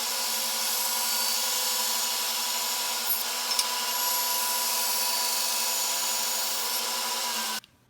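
A power saw cuts the second side of a wooden joint for a coffee table, giving a steady, loud, close whine that holds evenly for several seconds before stopping abruptly.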